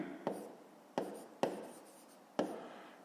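A pen scratches on paper in four short, distinct strokes, each a quick sharp onset fading into a soft rasp, close and quiet with no talk.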